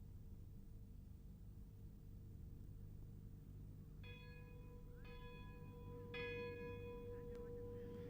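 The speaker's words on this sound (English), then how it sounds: "the funeral bell is a melancholy reminder of inevitable change as years go by" A village funeral bell in rural Shinrone, County Offaly, Ireland, rings faintly and distantly in several separate strikes over steady low background hiss from an old 1960s recording.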